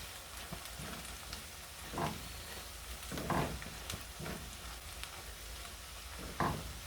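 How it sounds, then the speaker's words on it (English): Onions and cinnamon sticks sautéing in a pan for brain curry, a soft steady sizzle with occasional louder crackles and stirring scrapes, fairly quiet and without talk. "So it's been 1 to 2 minutes now since we sauteed the cinnamon sticks with the onions."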